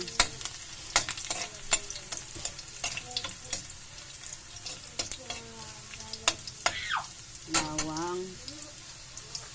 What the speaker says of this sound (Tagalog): Gigisa na natin guys ang ating mga sangkap. Unahin natin ang bawang.